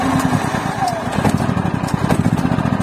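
A Black & Decker BXGNI4000E inverter generator's small engine turns over with a steady, rapid low chugging that holds for about three seconds, close and fairly loud, with a faint voice in the background.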